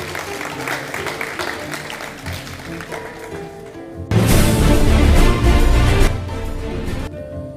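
Audience applause for university teams called to the stage at a student competition quarterfinal, a broad burst of clapping that swells up loudly partway through, holds for a couple of seconds, then fades back toward the earlier murmur.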